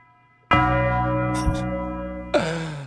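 A Serum 2 synth bell preset styled after the Undertaker's WWE entrance bell strikes once loudly with a long ringing decay, then a second hit lands near the end, alone with no talk.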